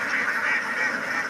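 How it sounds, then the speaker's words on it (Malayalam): A large flock of thousands of ducks quacking together in a dense, continuous chorus, loud and close with no pauses. "ഇത്രയധികം താറാവുകള്"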